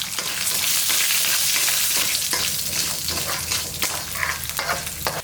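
Garlic cloves and ginger frying loudly in a pan, a dense continuous sizzle with stirring scrapes and occasional crackles, no speech.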